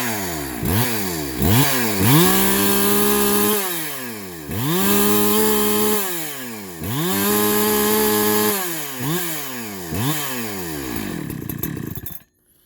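Husqvarna 372XP chainsaw, a stock 71 cc build with a 50 mm cylinder, running alone and close; it is repeatedly revved from idle to a loud high-pitched scream and back in a steady rising-and-falling rhythm, then cuts off.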